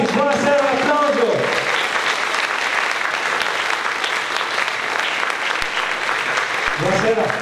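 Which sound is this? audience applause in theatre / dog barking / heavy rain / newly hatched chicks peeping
audience applause in theatre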